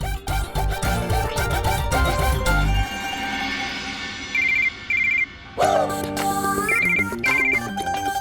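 A telephone ringtone rings loudly in repeated electronic melodic bursts with short pauses between, alone without talk, in a Hindi TV drama household scene.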